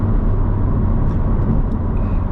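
A manual Chevrolet Corvette C7 Z51 drives along a road on an early morning drive, its engine and road noise a loud, steady rumble with no change across the moment.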